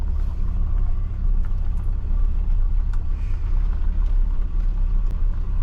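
A Ford Falcon XE pulls away, a steady low engine rumble with road noise heard from inside the cabin, loud and continuous, with no talking.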